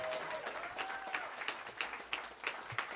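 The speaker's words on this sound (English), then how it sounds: "Give them all a round of applause." Crowd applause with scattered sharp claps, steady and fairly close, a brief tone-like sound drifting through near the start.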